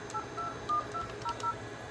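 A string of short DTMF keypad tones sounds as a number is dialed through an Asterisk home phone system, six or so clean beeps in an uneven rhythm over a faint hiss.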